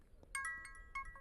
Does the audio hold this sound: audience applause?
no